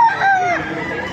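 Chickens and roosters at a bustling outdoor market, a rooster's crow rising over steady clucking for about a second, close and fairly loud above a murmur of background voices.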